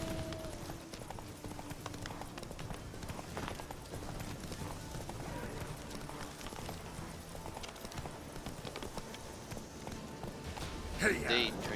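Horse hooves galloping steadily in the video game The Witcher 3: Wild Hunt, a continuous rapid clip-clop under someone talking, with a brief louder burst near the end.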